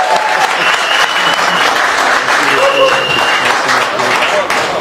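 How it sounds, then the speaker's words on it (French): Audience applause for a singer at a Paris album presentation, loud continuous clapping from a crowd with voices mixed in beneath it. "vous avez des applaudissements, s'il vous plaît"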